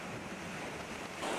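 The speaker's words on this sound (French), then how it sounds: "tout le long du littoral atlantique, comme ici à Sainte-Marie, une mer déchaînée sous l'effet de la houle" Rough, swollen Atlantic sea surging along the coast at Sainte-Marie as a hurricane approaches, a steady broadband roar of surf and wind, loud throughout the short stretch and swelling slightly at the end, with no voices.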